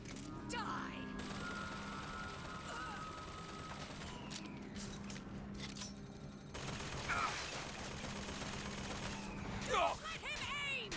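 Gunfire in the video game Bioshock 2: sustained rapid shooting mixed with game sounds and bursts of voices throughout, fairly quiet overall.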